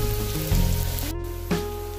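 Ginger sautéing in a pan gives a steady, close sizzle with a faint rain-like crackle and a couple of soft bumps from stirring, with no voices.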